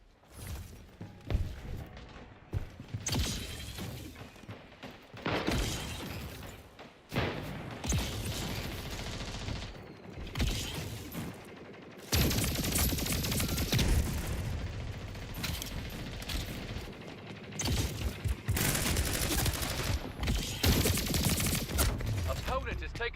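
SMG gunfire in the video game Splitgate 2, sustained rapid bursts and continuous shooting with thumps and impacts filling most of the stretch, mixed with other game effects.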